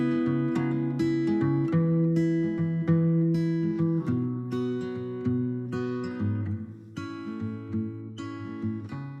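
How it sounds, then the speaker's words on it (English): An acoustic guitar with a wooden body and nylon or steel strings plays a steady run of plucked notes and chords, clear and close, with no voices. "The first guitar you saw is called the acoustic guitar."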